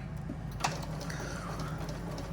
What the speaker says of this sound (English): Sew it like I would a piece, go the few more stitches on that one